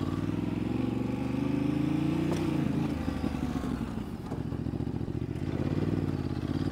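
An off-road motorcycle engine drones steadily and close by as the rider stands on the pegs, its pitch rising and falling with throttle changes and a brief rev in the middle, with no talk.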